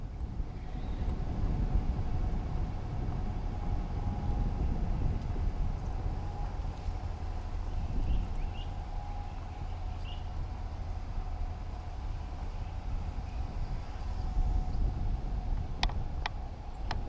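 Distant road traffic is heard from a wooded campground at Skidaway State Park, a faint, continuous low rumble and hiss with no talking.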